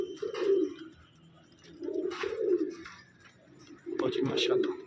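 Pigeons in a loft coo in three deep, throaty bursts separated by short pauses, heard close up with faint background rustle.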